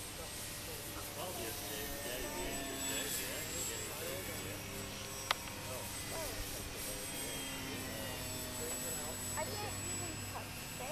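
Airplane engine drones steadily throughout a flight in a video game, a continuous even roar with one brief sharp click near the middle, while a voice talks over it.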